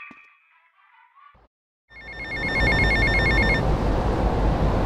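A payphone rings in Grand Theft Auto Vice City, an electronic ring that trills briefly over loud game background noise after a short soft tone and a moment of silence.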